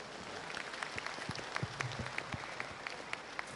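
Conference attendees applaud keynote speakers at a science, education and technology event, a faint, steady patter of clapping heard from a distance with occasional sharper individual claps standing out.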